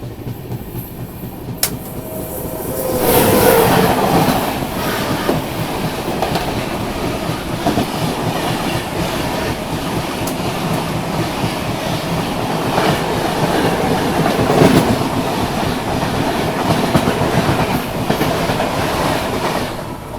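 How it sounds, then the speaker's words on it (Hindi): Howrah Jodhpur Superfast train rumbling past a moving Indian express train on the opposite track, a loud continuous roar of wheels and carriages with clickety-clack over rail joints throughout. "खैर अभी सामने से आ रही है हावड़ा जोधपुर सुपरफास्ट।"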